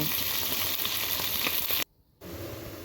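Fish frying in a pan, a loud steady sizzle close by, cut briefly by a near-silent gap before a softer sizzle resumes.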